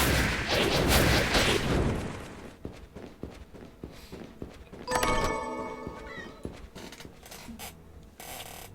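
An enemy cat in the video game Bloodstained: Ritual of the Night meows amid game combat noise, with footsteps, impacts and bursts of effects forming a busy, loud backdrop and no talking.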